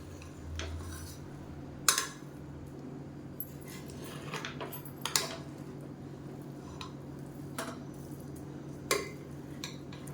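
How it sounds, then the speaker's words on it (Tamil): Chicken biryani rice in a pot stirred from the sides, faint soft squishing and a few light metallic clinks of a spoon against the pot over a low hum. "இப்போ சைடில் இருந்து அப்படியே கிளறி விட்டுக்கலாம்."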